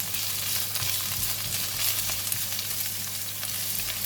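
Kailan stems stir-frying in a pan for a simple beef stir fry, a steady close crackling sizzle with scraping stirring throughout, no voices.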